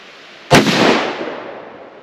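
A single loud rifle shot cracks close by, then rolls off into a long fading echo, with no voices.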